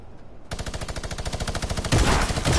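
Rapid automatic gunfire in a video game, aimed at a teammate, bursts loud and close in a fast continuous rattle that grows heavier near the end.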